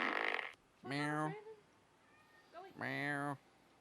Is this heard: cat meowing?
yes